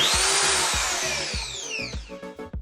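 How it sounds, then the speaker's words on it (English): A corded electric power drill run in short bursts, its motor whine rising and falling with the sensitive trigger, accompanied by a rhythmic low knocking, close and loud with no talk. "this is basically the main power drill that we have over here"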